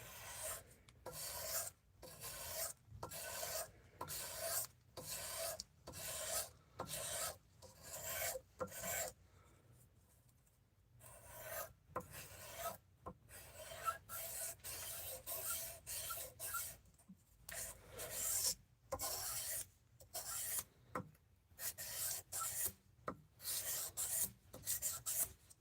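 A blade edge is filed by hand to raise a burr, giving repeated rasping strokes in a steady rhythm, each stroke a bright scratchy burst separated by short pauses, close and alone.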